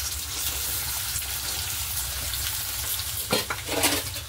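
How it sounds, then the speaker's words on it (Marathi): Potatoes frying in a couple of spoons of hot oil in a kadhai over a high gas flame, a steady close sizzle with a few brief stirring scrapes and clatters near the end. "त्या तेलावर चांगले आपण खरपूस भाजून घेऊया"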